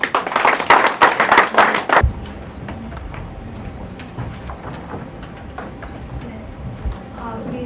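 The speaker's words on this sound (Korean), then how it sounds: "박수를 다시 한번 드립니다" Audience applause after a presentation at a Korean welfare policy seminar: a dense burst of clapping for about two seconds that stops abruptly, followed by a quiet room with faint shuffling and noises.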